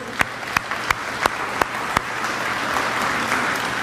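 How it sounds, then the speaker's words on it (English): Banquet audience at a hall of fame and senior athletic dinner starting to applaud: a few sharp, separate claps first, then a dense, steady wash of clapping that carries through to the end. "So how about a giant round of applause for all our volunteers?"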